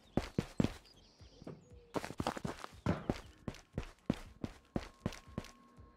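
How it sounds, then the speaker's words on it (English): Footsteps in the video game Ghosts of Tabor thud in a quick, even run of steps, a brief pause, then another steady series, close and fairly clear over a quiet background. "Did I hear footsteps then?"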